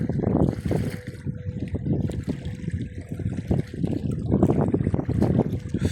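Small waves lap continuously on a lake in Padasjoki, Finland, giving a close, steady, gently splashing wash of water mixed with some wind rumble and no talking.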